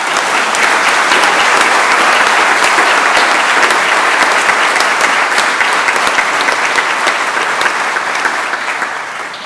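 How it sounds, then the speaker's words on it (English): Loud, sustained applause from a large audience at a sheriff's swearing-in ceremony, dense continuous clapping that tapers slightly at the end. "So let's give them a big round of applause."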